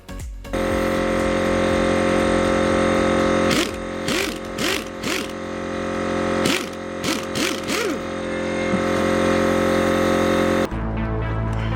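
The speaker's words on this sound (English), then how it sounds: "I'm removing the rust with a wire wheel so the springs can be painted" A wire wheel grinds rust off BMW E28 suspension springs, a loud, steady whine with repeated harsh bursts as the wheel bites into the metal, then it cuts off near the end.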